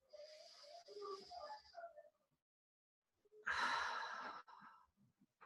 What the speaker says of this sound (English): Another breath in. And just let that go.